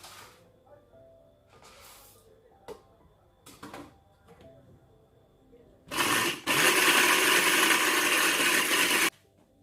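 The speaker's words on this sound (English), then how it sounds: "So let's get right into the blending process." A loud, steady roar of a blender grinding cereal grains runs for about three seconds near the end, after a stretch of quiet clinks and handling noises.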